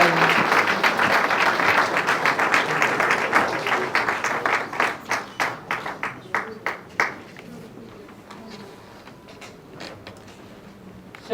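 Applause from an audience at a public gathering, dense clapping that fades into scattered individual claps before dying away, with no talk over it.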